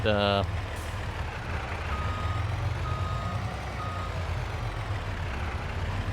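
A truck in the farming game Farming Simulator 22, set in Frankenmuth, Michigan, idles with a low diesel rumble while a steady reversing beep repeats at an even pace throughout, close and continuous.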